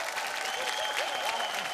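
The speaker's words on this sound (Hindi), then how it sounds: "जोरदार तालियां परेश और शरद के लिए।" Studio audience applause for two performers on a Hindi comedy stage show, a dense steady wash of clapping filling the whole stretch, loud and close.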